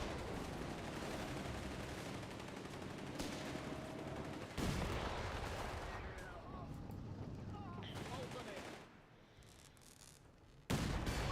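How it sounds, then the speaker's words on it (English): Anti-tank gun fire in the Company of Heroes 3 video game, with sharp gunshot bursts and booms over continuous battle ambience, including a loud blast near the middle and another near the end, fairly quiet overall. "But now the AT gun gets a shot in."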